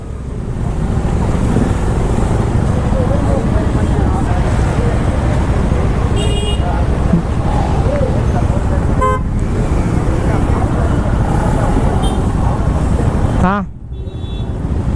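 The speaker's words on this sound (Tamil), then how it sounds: "ரொம்ப டிராஃபிக் ஆயிடுச்சுண்ணா" Dense roadway traffic with several short horn toots, heard from a motorcycle on a group monsoon ride toward Munnar, with steady wind buffeting and engine drone throughout and voices talking over it.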